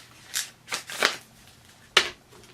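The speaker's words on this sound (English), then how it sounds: "going to just shuffle this deck" Oracle cards being shuffled casino style, heard as four short papery riffle bursts spaced unevenly across a couple of seconds, close and fairly quiet, with no talking.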